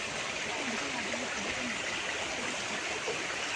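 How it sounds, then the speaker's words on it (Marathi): A village stream flowing steadily, a dense continuous rush and gurgle of water close by that holds constant throughout, with no talk. "किती मस्त वाटतं बघ वावतं पाणी"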